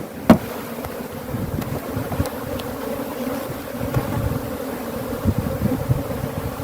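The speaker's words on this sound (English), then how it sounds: "Now I'm not going to shake the bees out of this box, but I do want to shake them down to the bottom" Honey bees from a defensive hive hum in a low, steady drone as they are shaken down inside a hive box, with a sharp knock near the start and soft rustling throughout.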